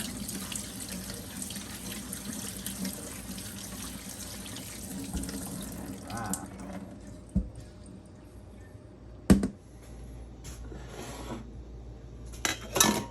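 Grapes are washed under running water at a sink, with a steady tap stream for several seconds before it stops, followed by a few close clunks and splashes from handling in the basin.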